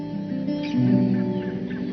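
Waterbirds gathered at a nesting site in the Pantanal wetlands during the dry season, giving steady overlapping calls and clucking honks that carry on without pause, with a busy chorus of birds near and far.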